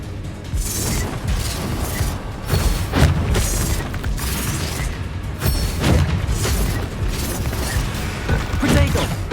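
Confringo and Bombarda explosion spells go off in the Hogwarts Legacy game, heard as loud, repeated booms and crashes in a dense, rapid battle mix, with spell-casting shouts over the blasts.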